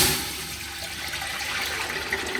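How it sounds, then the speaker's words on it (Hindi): Tap water poured by the jugful into a pressure cooker while making Lahori hareesa, a steady close rushing gush with no speech. "ये 3 जग पानी के और ऐड कर रही"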